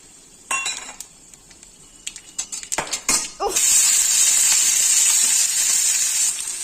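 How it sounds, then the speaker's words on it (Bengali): Fried potatoes with a pinch of black cumin hit hot oil: a few clinks of utensils, then a loud, steady sizzle that swells and holds to the end, with no talk. "আলুটা খুব সুন্দর করে আমি ভেজে নিয়েছি দিলাম আর একটু সামান্য কালো জিরা"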